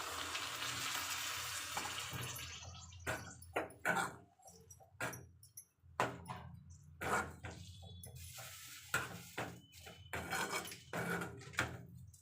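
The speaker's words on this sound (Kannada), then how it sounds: "ಇವಾಗ ಇದಕ್ಕೆ ಸ್ವಲ್ಪ ನೀರು ಹಾಕ್ತಾ ಇದ್ದೀನಿ." Water poured in short, splashing bursts into a pan of North Karnataka-style okra palya, each pour separated by quiet gaps, close and fairly soft, with no voices.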